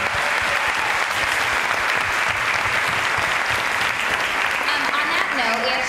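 An audience at an ATX Festival panel for Boy Meets World applauds loudly and steadily, a dense wash of clapping that never lets up, with voices faintly audible beneath it.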